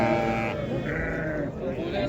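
Pregnant ewes bleat loudly and continuously at a busy livestock market in Qarshi, the drawn-out calls overlapping with one another and with voices talking nearby.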